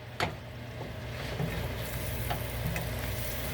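Shrimp fry in a pan on the stove over medium heat, a continuous soft sizzle and crackle with a few faint pops and clinks, moderately close and steady, no voices.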